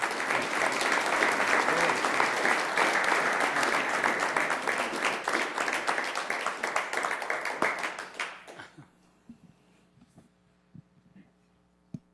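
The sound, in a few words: applause at a city council meeting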